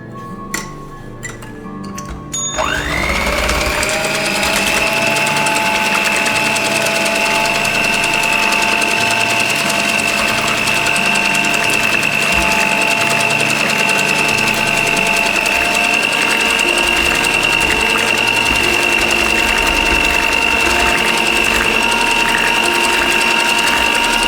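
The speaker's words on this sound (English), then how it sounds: "Grab your mixer and beat it up." Electric hand mixer beating milk cake batter of eggs and sugar in a bowl, starting with a few clicks and then a loud, steady whirring drone that holds unchanged throughout.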